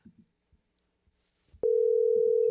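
A live phone call goes unanswered, with a steady electronic call tone that starts abruptly and holds loud and unbroken after a few faint knocks and murmurs.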